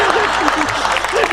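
Audience clapping at a Hindi poetry gathering, a brief burst of dense applause under which a voice keeps speaking.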